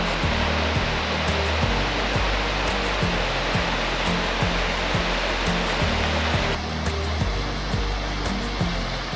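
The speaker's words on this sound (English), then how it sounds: "We are at waterfall number 5, Drake Falls." Drake Falls, a 27-foot waterfall at Silver Falls State Park, roars as a continuous broadband rush of water, loud and steady, alone without voices.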